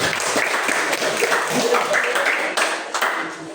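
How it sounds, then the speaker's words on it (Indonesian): An audience applauds at a sixth-grade primary school graduation ceremony: a steady, fairly distant wash of clapping that thins slightly toward the end. "Tepuk tangan untuk kalian semua."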